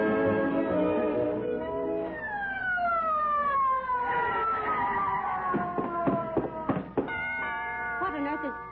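An ambulance siren sound effect from a 1946 Fibber McGee & Molly radio broadcast rises and falls in a wailing, gliding tone, then gives way to clattering noises and other sounds.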